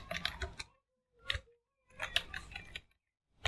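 Keystrokes on a computer keyboard while a command is typed into a Windows Docker terminal, coming in short quiet bursts of clicks separated by brief pauses, fairly close and with no talking.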